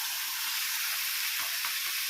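Boiled young jackfruit tipped into spice paste frying in a pan, producing a dense continuous sizzle with faint soft stirring knocks underneath, close and steady.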